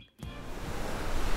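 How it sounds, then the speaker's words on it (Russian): Cartoon sound effect of giant Hawaiian waves: after a brief hush, a rushing surge of crashing water swells in and grows steadily louder. "Гигантские гавайские волны!"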